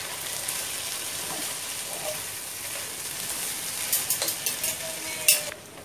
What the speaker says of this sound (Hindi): सॉल्ट भी डाल देते हैं साथ में और इसे मैं मिक्स कर लेती हूँ।